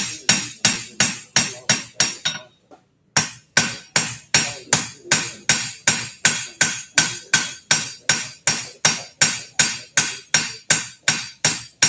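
Hammer beveling hot metal at a forge, a loud, steady series of around thirty ringing blows in even rhythm with one short pause partway through.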